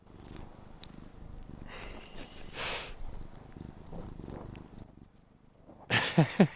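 A cat purrs close up with a steady, rumbling rhythm, broken by a few louder snuffles and breathy bursts near the end.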